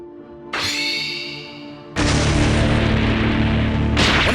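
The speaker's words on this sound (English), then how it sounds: "When a second explosion erupts in the distance" A distant explosion in a Dragon Ball Bloodlines scene: a sudden burst opens into a loud, sustained rumbling roar that holds steadily for a couple of seconds, then cuts off, with no talk.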